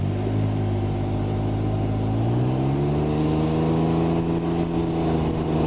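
Can-Am Ryker 900 ACE three-wheeler from 2020 with a CVT, ridden on the road: a steady engine drone whose pitch rises smoothly, heard close and continuous with no talk over it.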